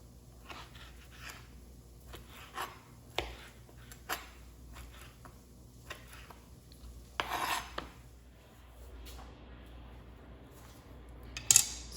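A knife chops bacon and sausage on a board in a home kitchen, giving a dozen or so irregular sharp taps and scrapes, with one louder rasping cut near the middle and a sharp clink at the end.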